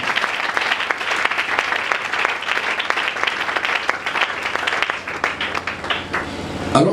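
A church congregation claps steadily and loudly in praise, a dense continuous wave of applause that keeps going before tapering slightly at the end.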